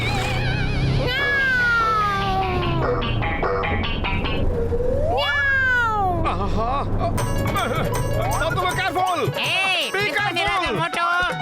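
A cartoon cat meows and yowls repeatedly in sliding, drawn-out cries, mixed with jingling and other cartoon sound effects over a busy, continuous soundtrack.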